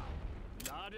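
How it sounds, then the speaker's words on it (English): An artillery shell fires in the World War I strategy game The Great War: Western Front, a single short, heavy blast partway through, with someone talking over the din of battle. "I'm using a fair bit of artillery up here and also taking a fair bit of time"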